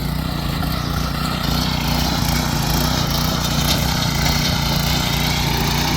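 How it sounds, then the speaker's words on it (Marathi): An Agrinir 7 HP petrol farm machine with a rotor runs steadily at close range, a loud, continuous engine drone without pauses or voices. "प्रॉपर मशीन चालत आहे चांगल्या प्रकारे रोटर काम करत आहे"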